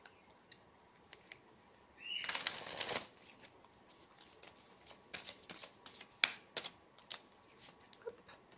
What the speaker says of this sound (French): Je vais mettre une petite carte conseil.